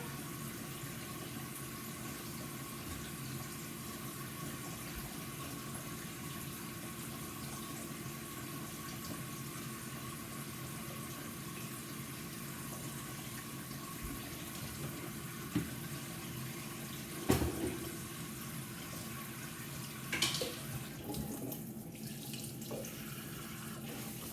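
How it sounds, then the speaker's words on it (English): Tap water running steadily into a kitchen sink holding ice cubes, a close, constant hiss and splash for the whole stretch, broken near the end by a sharp clunk and a brief shift in the flow. "I've got my water going in my sink with some ice cubes floating around in them."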